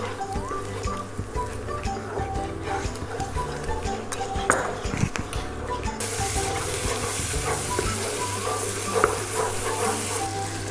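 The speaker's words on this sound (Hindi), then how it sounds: "इसमें 3 चम्मच दही डालेंगे और दही डाल के भी कुछ देर पका लेंगे इसको।" Masala and yogurt frying on a hot tawa for spicy tawa chicken give a steady close sizzle and hiss, with scattered light metal scrapes and clinks from stirring and a brief louder burst of sizzle partway through.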